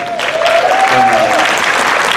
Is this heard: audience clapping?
yes